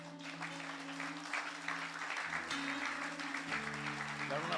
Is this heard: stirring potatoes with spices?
no